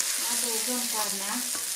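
Beef dropped into a hot pot for a soup with green beans, giving a broad continuous sizzle with light stirring underneath, close and steady, with a faint voice-like tone also present.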